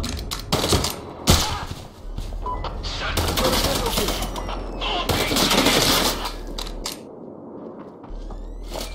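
Gunshots in the Sniper Ghost Warrior 3 video game ring out close and loud in several sharp bursts, mixed with rattling game effects and a low rumble under the shots.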